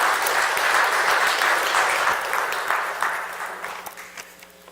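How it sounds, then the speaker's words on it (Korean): A forum audience of business leaders welcomes a speaker with loud, sustained applause from many hands that gradually thins and fades toward the end, with a few last scattered claps and no talking. "박수로 다시 한번 크게 환영하겠습니다."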